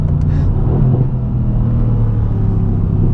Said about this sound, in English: I was a little bit hesitant that the 4-liter twin-turbo V8 wasn't going to sound good, but man, it sounds great.